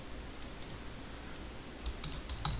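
Keystrokes on a computer keyboard while writing ASP.NET Core MVC code, a sparse scatter of soft, faint taps over steady background hiss, growing a little busier toward the end.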